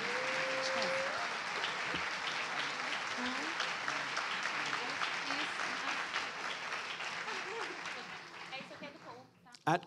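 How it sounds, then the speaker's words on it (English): A conference audience at a renewable-energy forum gives speakers a sustained round of applause, dense and steady before fading, ending with a short sharp knock. "Let's join in giving them another round of applause."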